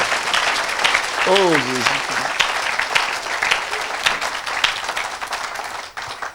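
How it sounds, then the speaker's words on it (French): A church audience breaks into loud, continuous applause and cheering that carries on throughout, with a voice briefly exclaiming over the crowd. "Acclamez cet invisible parmi nous."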